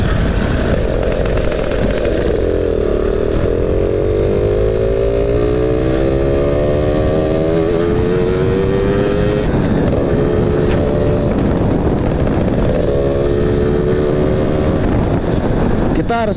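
A Yamaha Alfa motorcycle fitted with a racing CDI runs on the road, its engine revving up and down in rising buzzy sweeps, loud and close with wind noise, as a rider talks.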